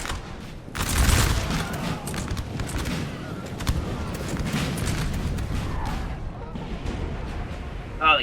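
Canister shot artillery booms repeatedly across a Napoleon Total War battlefield, loud dull blasts with crackling volleys layered over a constant roar of battle noise, and a brief voice near the end.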